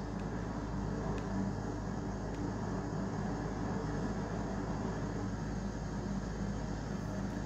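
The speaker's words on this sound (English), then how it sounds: "so this is a very fast moving train" A steady, loud rumbling roar of a fast-moving train in the video game Train Sim World 3, continuous and unbroken throughout, with a dense low-frequency drone.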